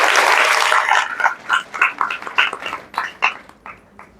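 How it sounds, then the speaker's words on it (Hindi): An audience claps in welcome for a speaker: dense, loud applause at first that thins into a few spaced, rhythmic claps before fading. "और ताली बजा के उनका स्वागत करें।"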